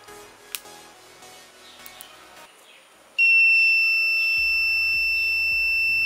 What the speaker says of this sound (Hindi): यहाँ पर जब कोई घर में आएगा तब यहाँ पर बजर बीप करेगा